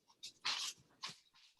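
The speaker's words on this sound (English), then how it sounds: "One of my dogs is trying to throw up." A dog retching as it tries to throw up, a few harsh, breathy heaving bursts at close range with short pauses between them, no talking.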